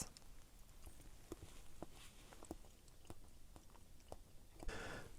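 Someone eating the fatty belly of a thick, fat masu trout, soft close chewing and quiet bites over a faint steady background, with a small sharper crunch near the end.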